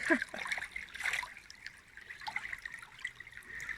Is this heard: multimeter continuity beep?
no